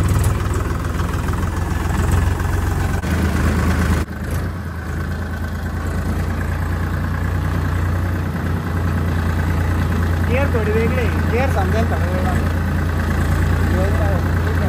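A tractor engine chugs steadily at idle, a low constant drone with a brief shift partway through and faint voices over it.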